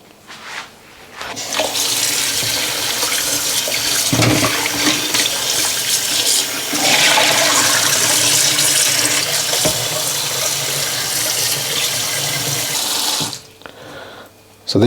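Tap water runs steadily and loudly into a sink while cauliflower florets are washed, a continuous splashing rush that briefly dips midway and then stops near the end.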